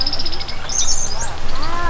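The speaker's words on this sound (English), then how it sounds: "Wow, what a pretty bird." A bird chirps indoors in a room, with high, thin repeated tweets running throughout over a steady background hiss.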